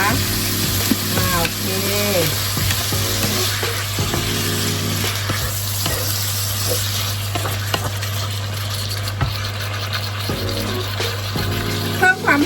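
Pork with crushed black pepper stir-fried in a pan, a steady sizzle running throughout with scraping spatula strokes on top, while someone talks over it.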